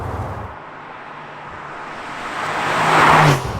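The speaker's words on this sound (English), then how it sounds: "I have to say that I'm a bit disappointed with how the exhaust of this car sounds like." From inside a moving Porsche 911 992 Carrera S, a fairly muted exhaust note builds from a low hum into a louder, rising rush of revs toward the end, then eases off slightly.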